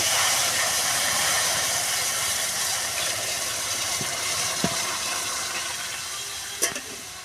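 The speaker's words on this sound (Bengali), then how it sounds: "কড়াইতে দিয়ে দেব জল" Water poured into a hot karai after whole spices and panch phoron were fried releases a steady broadband hiss that fades slowly over several seconds, with a couple of small clicks near the end.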